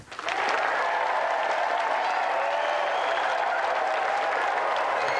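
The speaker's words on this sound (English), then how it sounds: "Round of applause for Jack." Studio audience on a video game TV show breaks into applause after a contestant's challenge ends, a loud, dense, sustained wash of clapping that swells quickly and holds steady throughout.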